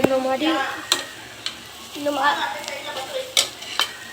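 Bread manchurian being stirred in a frying pan, a soft sizzle under repeated sharp clacks of a spatula against the pan, with a voice speaking briefly between strokes.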